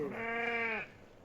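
A single goat lets out one clear, quavering bleat close by, held briefly before stopping against a quiet background.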